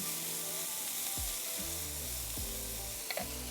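Fried rice sizzles on a Blackstone griddle, a steady close frying hiss broken by a few scraping stirs of a spatula, with no talking.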